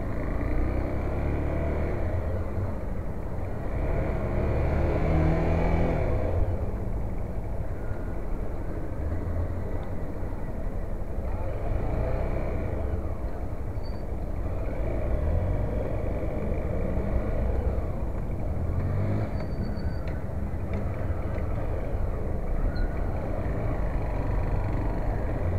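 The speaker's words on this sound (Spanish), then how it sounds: "ahora pegamos de nuevo el tránsito" A car drives through busy city traffic past furniture stores, giving a steady, muffled engine and road rumble from inside the vehicle with no talking and only slight swells in level.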